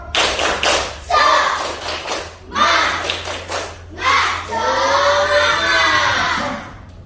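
Children in a Grade 5 civics class clap in a rhythmic 'tepuk semangat' pattern, with bursts of clapping in spaced groups, voices chanting over them and steady background hum throughout.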